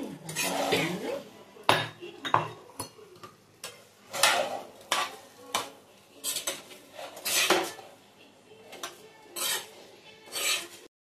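Honey prawns with chili flakes stirred in a pan, a spoon scraping and clinking against the metal in repeated bursts of clatter, close and fairly loud, with short quiet gaps between strokes.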